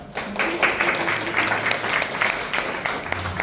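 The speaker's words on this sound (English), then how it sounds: "Okay, I think we should clap." Audience applause at a church meeting, a dense steady patter of many hands clapping that holds throughout, with a few voices faintly mixed in.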